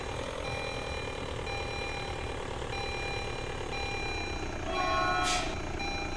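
A low, continuous rumble of a passing train in a Roblox driving game, with faint high tones and a brief rise in noise near the end, heard without talk.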